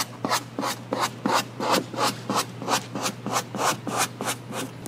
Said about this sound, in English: anytime you use a squeegee on a graphic or anything that you purchase from us, you do want to make sure that you are applying pressure evenly